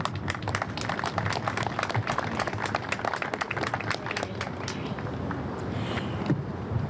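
Steady applause from an outdoor crowd at a city square dedication ceremony, dense rapid clapping continuing throughout at moderate volume with no talk over it.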